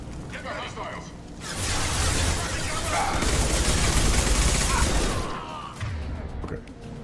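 Dense crackling gunfire and crashes from a firefight in Mass Effect 2, loud and continuous in the middle with voices talking over it.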